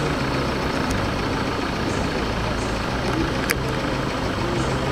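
A tractor engine idles and runs far off, a steady low rumble that fills the whole stretch with no clear changes.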